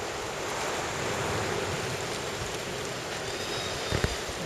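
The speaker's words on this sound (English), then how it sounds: "this is the water going out through that little narrower part of the entrance to the marina." Fast water pours out through the narrow entrance of a marina as large swells push in, making a steady, full-bodied rushing roar close by, with a small knock near the end.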